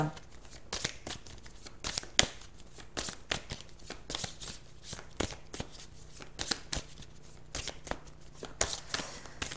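Rainbow oracle cards are shuffled by hand in a steady run of crisp, papery riffles and snaps, close and fairly quiet, with no talking.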